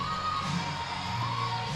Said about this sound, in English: we got a loud crowd here